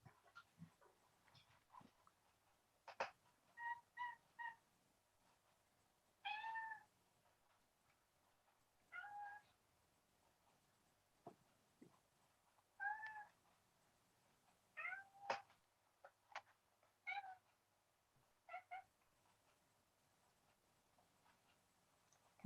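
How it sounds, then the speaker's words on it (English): A cat meows repeatedly, short separate calls spread across a quiet background, fairly close and clear, with only occasional faint taps and rustles between them. "Come on, kitty cat. You're not going out just yet."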